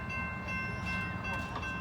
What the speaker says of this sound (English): Probably a Norfolk Southern train,